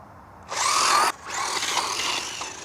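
A WLToys RC car on a 2S battery revving its electric motor hard into a wheelie, a loud high whine that surges, cuts out briefly, then resumes steadily.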